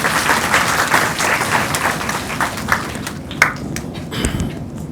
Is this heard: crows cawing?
no